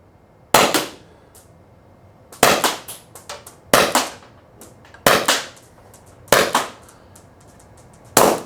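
Salt Supply S2 salt launcher firing: six sharp, loud cracks spaced roughly one to two seconds apart, each followed by a short rattling decay, with near silence between shots.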